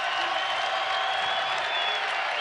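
A crowd at a WNIT women's college basketball game between Wyoming and UCLA cheers and applauds steadily, with a moderately distant roar and a few whistles mixed in.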